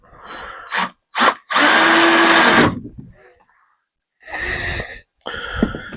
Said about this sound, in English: Drill through there